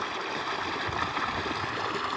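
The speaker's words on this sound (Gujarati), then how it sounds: "ત્યાંથી મોટર ચાલુ કરી છે અને પાણી એટલું આવે છે લાઈનમાં" Pump-fed water rushes steadily along an irrigation channel on a farm, a continuous close, moderately loud flowing and gurgling wash with no pauses.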